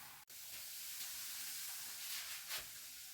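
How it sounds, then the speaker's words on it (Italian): A homemade toilet-cleaning mixture fizzes and bubbles, a faint, steady hiss of tiny bursting bubbles with slight swells, close by and without speech. "mentre sta comunque facendo tutte queste bollicine"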